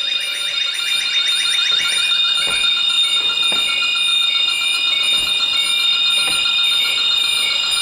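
Electronic refrigerant leak detector alarm beeping loudly and rapidly in a steady high-pitched pulse, rising in pace at first and then holding constant for the whole stretch, alone with no talk.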